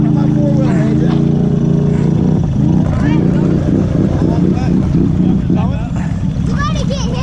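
A Honda four-wheeler engine running in deep water, a loud, continuous low drone with splashing, heard close with people shouting and talking over it.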